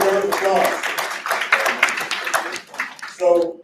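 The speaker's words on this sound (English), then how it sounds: "Give him a round of applause." An audience applauds after a talk, a dense, close patter of clapping with a voice speaking partway through.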